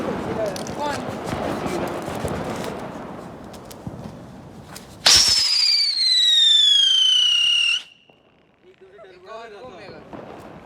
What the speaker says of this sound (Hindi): 26 सेकंड का पटाखा।